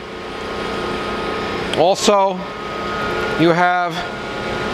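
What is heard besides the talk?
Landis universal cylindrical grinder spindle spinning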